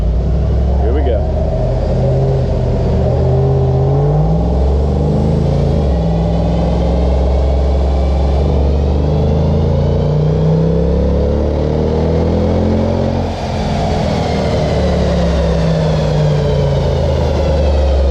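A 2011 Mitsubishi Evo X GSR, recently damaged in a fire, revs hard with loud, close engine roar and rising and falling pitch, over a steady running rumble, with people talking over it.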